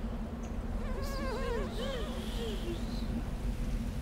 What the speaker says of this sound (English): I can hear a fly buzzing about.